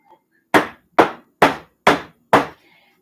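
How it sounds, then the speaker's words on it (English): Five firm, evenly spaced thumps ring out as a loaf pan of lemon poppyseed batter is banged on a kitchen counter, each knock close and loud with a short hollow tail, and no one speaking. "you're just going to take your pan and lightly bang it on your counter."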